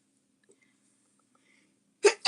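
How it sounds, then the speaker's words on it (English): A single person sneezes after near silence: two sharp, close bursts in quick succession at the very end, loud against an otherwise quiet room. "I feel like I'm gonna sneeze."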